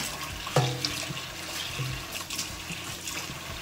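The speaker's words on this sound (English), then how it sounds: "So I'm washing my knife." Tap water runs steadily into a sink while a knife is rinsed beneath it in a home kitchen, a soft, continuous splashing with a few light clinks near the start.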